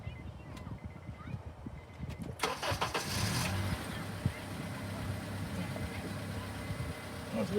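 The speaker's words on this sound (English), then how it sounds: "I'm entering the car and I'm going to start the car" Honda car engine cranking and catching after someone gets in, a burst of starter noise about a third of the way in settling into a steady close idle, with faint talk and handling noises beforehand.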